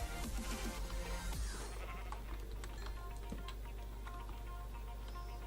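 A Minecraft sheep bleats in a brief burst near the start, over a steady low hum and scattered light ticking and clicking sounds.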